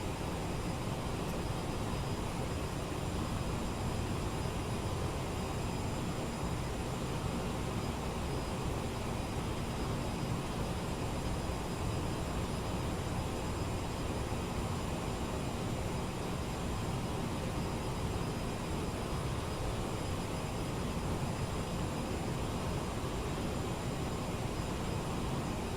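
CRJ jet airliner engines in Microsoft Flight Simulator 2020 give a steady, loud, broadband roar with a faint high whine, unchanging throughout and without talk.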